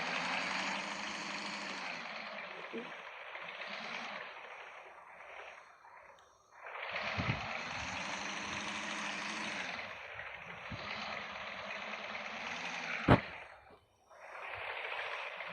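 An airliner's engines hum and whoosh inside a cabin crew simulator game, a faint, steady drone that swells and dips, with a brief sharp pop near the end.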